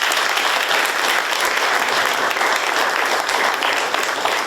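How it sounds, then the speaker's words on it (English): Dense, steady applause from an audience at a regional film Q&A session at the Lytham International Film Festival, continuous clapping close and loud throughout. "That's a round of applause in its own."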